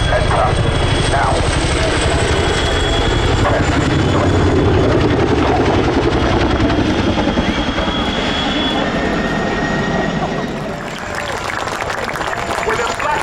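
An RAF Chinook twin-rotor helicopter flies its 2023 display at the RAF Cosford airshow, a loud, sustained whine and throbbing rotor roar close by, dipping slightly near the end, with a voice talking underneath.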